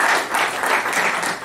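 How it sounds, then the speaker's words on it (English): Seminar audience applauding a speaker's wife, a brief burst of dense, loud clapping from many hands, fairly close and continuous. "Give my beautiful bride Deborah a round of applause"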